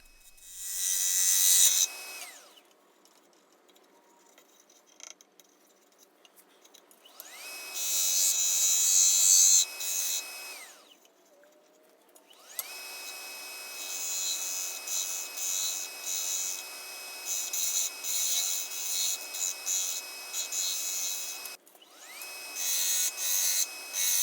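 A lathe gouge cuts a dry butternut bowl on a woodturning lathe, giving a bright, loud hissing scrape in repeated passes of several seconds, with quieter motor hum in the pauses between cuts.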